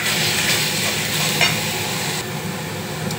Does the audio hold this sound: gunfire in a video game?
no